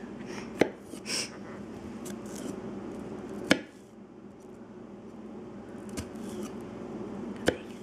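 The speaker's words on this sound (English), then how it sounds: "You want to chop it as finely as you can." A knife chops garlic cloves finely, giving a few sharp, isolated cutting taps spaced several seconds apart over a low, steady room hiss.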